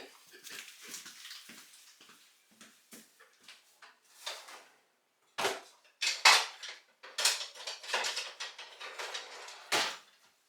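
Kitchen clatter near the sink while a spoon is fetched: scattered knocks, clinks and rummaging, faint at first, then louder sharp bangs of utensils and dishes, with no talking.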